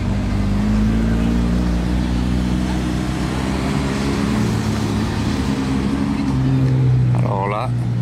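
A Mercedes-AMG GT R at a Monaco car gathering drives past with a steady, loud engine drone that swells a little near the end, while people talk over it.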